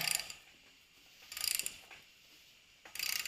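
A hand ratchet tightens an old bolt on a 1979 Camaro during an LS engine swap, giving three short bursts of quick clicking separated by pauses, close and fairly quiet with no talking.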